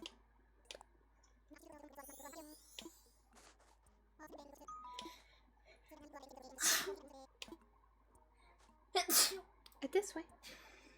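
Two sharp, loud sneezes burst out amid casual French conversation and a soft game soundtrack during Animal Crossing: New Horizons, one near the middle and another a few seconds later.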